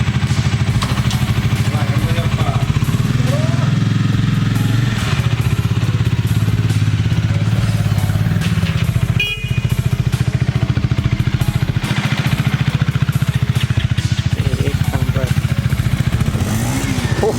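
A 2019 Bajaj Dominar 400 motorcycle engine runs loud and close with a continuous throbbing rumble that barely changes, apart from one brief clunk partway through; a voice talks briefly over it.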